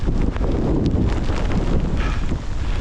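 Wind buffets the microphone loudly and steadily while a runner heads straight into the wind outdoors, a continuous low roaring rumble with no voices.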